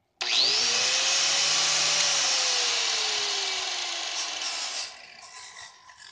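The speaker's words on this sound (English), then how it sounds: "I'm gonna sand it real soft, and try not to cut" A power tool sands body filler on a car bodykit, a loud steady whine that spins up at the start, holds with a slowly falling pitch, then drops off near the end.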